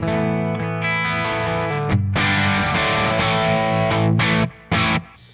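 Electric guitar played through a Euphoria overdrive pedal with a touch of tape-style echo, in the middle pickup position: sustained overdriven chords and notes ringing for several seconds, then two short stabs with brief gaps.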